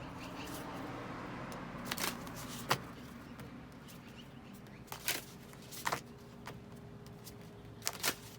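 A deck of oracle cards is shuffled quietly, with soft scattered riffles and sharp little taps spaced unevenly against a faint room hum.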